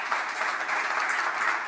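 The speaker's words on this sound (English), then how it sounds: "I want an applause, please, for these 3 women." Applause from a conference audience at a session on women on boards, a steady wash of clapping from a crowd with no voices over it.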